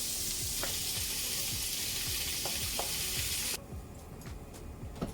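Chopped tomatoes go into a hot pan of golden-browned base for a Ghanaian dish, giving a steady, loud, close sizzle with a few stirring clicks; the hiss drops noticeably partway through.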